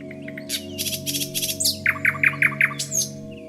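Forest birds chirp and trill in quick bursts, a lively chorus of high tweets and a run of repeated clear notes over a low steady hum.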